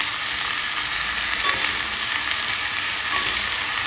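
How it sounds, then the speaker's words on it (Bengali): Greens, potato and pumpkin frying in a pan as they are stirred, a loud unbroken hiss of sizzling oil heard up close with faint scrapes of the spoon. "নাড়াচাড়া করে সবজিটা পুরো রান্না করেছি"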